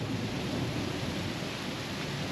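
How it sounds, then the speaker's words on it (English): Thunder rumbles through heavy, steady rain at an outdoor construction site where concrete work is halted. The downpour is a constant loud wash, with no voices. "Listen to the thunder."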